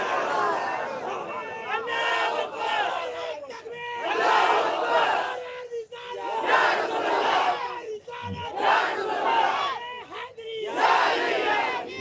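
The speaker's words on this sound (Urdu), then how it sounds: "نعرے حیدری انہوں نے لگایا نا ابھی" A large crowd at a religious gathering roars the Nara-e-Haidari slogan in repeated loud, rhythmic waves of massed voices, with brief dips between each surge of shouting.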